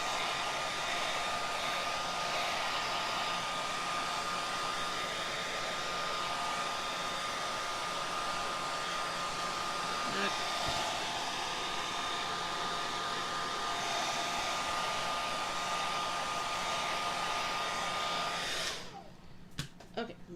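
A hair dryer blows on a printed tea towel with a loud, steady whoosh and a thin whine for about nineteen seconds, then cuts off, leaving a few faint clicks and handling noises.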